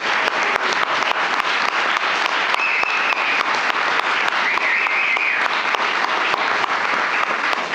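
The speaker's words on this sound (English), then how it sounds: "Please give a very, very thank you round of applause for Wilson Bank and Trust." Sustained audience applause at a pitch-day event, steady dense clapping filling the room for several seconds, with a faint tone sustained over the crowd.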